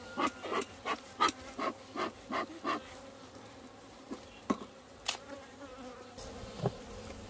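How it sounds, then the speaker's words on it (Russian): Honeybees at a village hive, a faint continuous buzz with rhythmic rubbing or scraping knocks in the foreground, close and quiet, no talking. "Вот видишь, на дедушку села пчела?"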